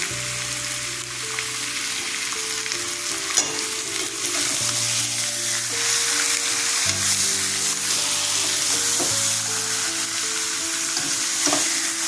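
Chicken and potato pieces with garam masala fry hard in a pan, a dense steady sizzle broken by repeated stirring scrapes against the metal, under soft background music with no voices.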